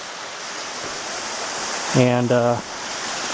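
An underground stream pours over a small waterfall inside a cave, a steady close rushing hiss of water throughout, with someone briefly speaking over it.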